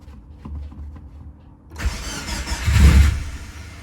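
A Subaru Forester STI engine cranks for a couple of seconds, then catches and fires up with a loud, rising rev before settling, heard up close.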